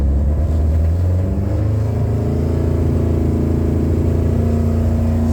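A Hayabusa engine fitted in a 1967 Toyota Publica revs up from a steady idle, its loud, close drone rising smoothly in pitch over several seconds.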